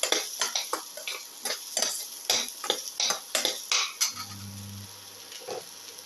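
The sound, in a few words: sautéing and stirring tamarind pieces in the mixture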